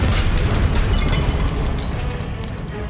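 A Confringo spell explodes in Hogwarts Legacy, a loud, sustained, rumbling blast that fills the whole moment with dense noise and no talking.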